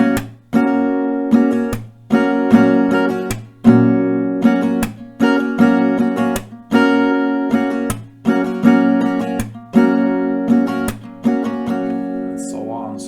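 An acoustic guitar plays a repeating strum pattern of down, down, up strokes, each round punctuated by a sharp percussive clap, loud and close with a steady rhythm and no talking.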